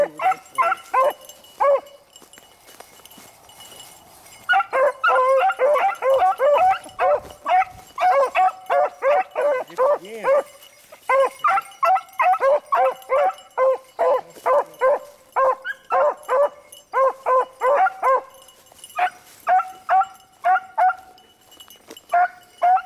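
A pup repeatedly barks, yips and whimpers at a field event, with dense, rhythmic bursts for most of the stretch after a short quieter pause near the start.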